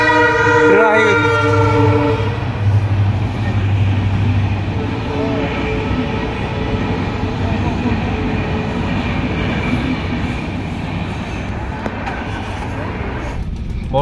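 A train arrives near Dimapur, Nagaland, its horn blaring loud and close at the start before giving way to a steady rumble and clatter of wagons rolling past.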